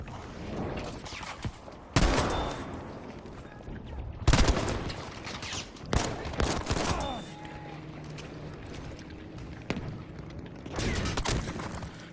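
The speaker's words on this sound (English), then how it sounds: "Squad lead, an artillery barrage." Artillery barrage in the video game Battlefield V during a Rotterdam Conquest match: repeated loud blasts and bursts of gunfire strike every couple of seconds over a constant low rumble, with scattered shots between.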